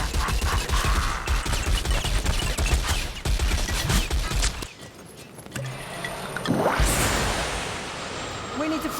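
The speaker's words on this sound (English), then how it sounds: "Open fire from the rattling gun." A ratling minigun in Warhammer Vermintide fires a dense, rapid burst of clattering shots, then pauses before a whooshing rush, with voices talking over the action.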